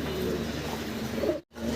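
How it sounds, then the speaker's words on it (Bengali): Pigeons coo inside a loft, a low, steady murmuring close by that continues without speech and breaks off briefly near the end. "দোনোটা কবুতর খুব চমৎকার স্প্রিং করতেছে, দেখতে পারতেছেন।"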